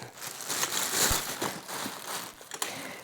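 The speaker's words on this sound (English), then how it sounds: "Unwrap it." Plastic packaging being unwrapped from a small LED panel light stand, giving a close, steady crinkling and rustling with a few sharper crackles over a few seconds.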